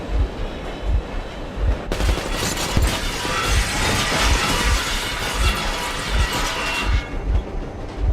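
A train locomotive engine from the video game Metro Exodus runs loud and close, with a steady rolling rumble and rhythmic clanking that continue for the whole stretch, swelling in the middle and thinning toward the end.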